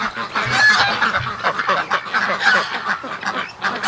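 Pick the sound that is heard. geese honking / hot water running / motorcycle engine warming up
geese honking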